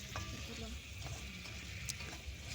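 Ginger paste is stirred into a cauliflower and soybean curry in a pan, with a soft, quiet sizzle and faint scraping under occasional light knocks.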